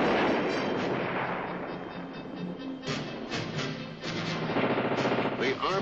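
A Redeye one-man missile system fires at an aerial target during military training, heard as a loud, rough rushing blast that rumbles on for several seconds with further booming surges, on an old noisy recording.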